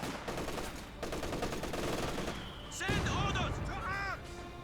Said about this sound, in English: sometimes also hard to remember which MG34 is firing. Apparently, both of them.